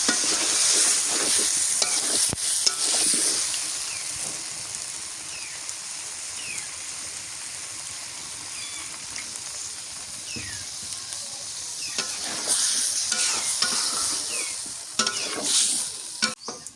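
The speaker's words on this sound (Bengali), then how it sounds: "আলু দিয়ে আর একটু কষাই নিই" Fish curry with potatoes stir-fried in a pan in a village kitchen, with continuous loud sizzling and hissing from hot oil, broken by bursts of stirring and scraping, heard close and without talk.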